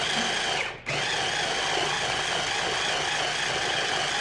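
Steady high-pitched whirring of a kitchen appliance chopping tangerine skins, running continuously and loudly with one brief dip near the start.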